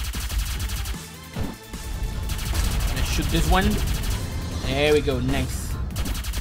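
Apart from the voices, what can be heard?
gunshots from the video game Juanito Arcade Mayhem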